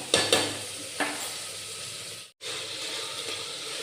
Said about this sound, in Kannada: ಅದು ಸ್ವಲ್ಪ ಕೆಂಪಾಗೋವರೆಗೂ ನಾವು ಫ್ರೈ ಮಾಡ್ಕೊಳ್ಳೋಣ, ಒಂದು 5 ನಿಮಿಷ